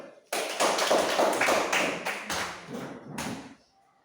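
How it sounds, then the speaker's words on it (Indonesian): Applause for a student group in a classroom: a short burst of dense hand clapping from a small crowd that starts suddenly, holds for about three seconds and then fades out. "Oke, kita berikan tepuk tangan."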